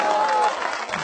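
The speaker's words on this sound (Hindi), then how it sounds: "एक बार जोरदार तालियां बजा कर मुझे हुक्म दे" Loud applause from a large audience at a Hindi-Urdu poetry recitation, steady dense clapping with some crowd noise filling the whole moment.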